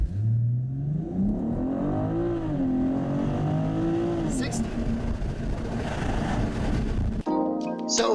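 A 2021 BMW M440i xDrive in Sport Plus mode launching hard through a 0-60 run, its engine note climbing steadily through the gears with brief shift dips, loud and close from inside the cabin, with a sudden cut near the end.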